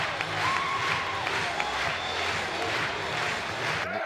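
A dense, sustained roar from a college baseball stadium crowd cheering Ole Miss taking the lead on an RBI single at an NCAA regional game, steady and loud throughout with no clear breaks.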